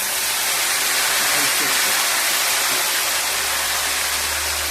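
Turmeric salt water hits hot oil while jackfruit chips fry, giving a loud, continuous sizzling hiss that stays steady throughout, with a low hum creeping in near the end.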